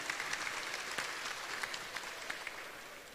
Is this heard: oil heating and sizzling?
no